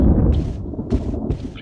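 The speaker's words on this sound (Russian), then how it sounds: "Гроза." Thunderstorm in Resident Evil HD Remaster, a loud, heavy rumble of thunder running through the whole short clip, with bursts of rain-like hiss swelling and fading over it.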